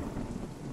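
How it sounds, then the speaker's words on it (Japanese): Thunder strikes during a rainstorm in the open-world crafting game Craftopia, producing a dense, roaring broadband rumble with rain noise that fills the brief moment without any voices. "雷落ちた今。"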